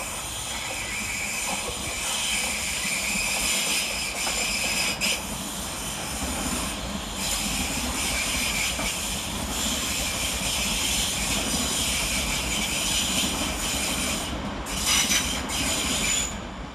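Loud, continuous rumble and hiss of London Northwestern Railway class 350 electric trains at London Euston station, with faint wheel squeals and a steady mechanical drone throughout.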